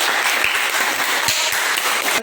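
A classroom of students claps together, loud and continuous, a thick spatter of hands that holds evenly for about two seconds before cutting off sharply.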